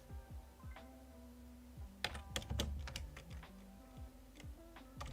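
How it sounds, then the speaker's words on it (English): Rapid computer keyboard typing, a quick run of sharp key clicks with a denser burst in the middle, close and fairly quiet over a low background hum with faint tonal game sounds. "because I'm typing fast"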